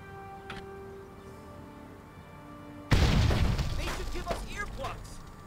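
A grenade goes off in Full Spectrum Warrior during a training exercise, a sudden loud blast after a quiet lull that rumbles and decays for several seconds amid scattered debris.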